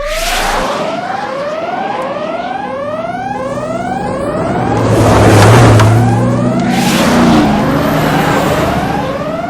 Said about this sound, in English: Alarms blared inside the tunnel.